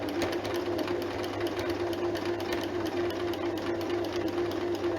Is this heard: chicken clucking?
no